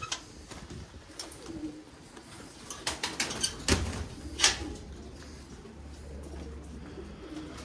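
Posta pigeons cooing inside a coop, a few soft throaty coos amid scattered knocks and rustles, fairly close, with a low hum running underneath.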